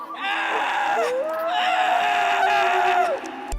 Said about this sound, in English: Clay lets out a scream that sounds like a soul in agony